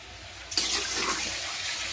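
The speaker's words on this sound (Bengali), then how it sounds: "আমি এখন পানি দিচ্ছি" Water is poured into a cooking pot during the making of a village-style mola fish curry with potatoes and dal, a sudden steady splashing gush that starts abruptly and continues.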